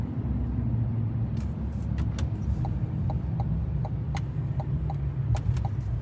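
2024 GMC Sierra 2500 AT4X AEV pickup rolling through a downtown city street, a steady loud engine and road rumble with sharp ticking clicks scattered through it and no one speaking.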